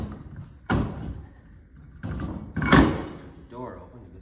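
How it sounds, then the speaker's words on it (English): A door is opened in a workshop where trailer bearings are being replaced, on a chilly day. Two separate loud clunks sound close by over a quiet background, with faint voices around them. "Door open to get the fresh air."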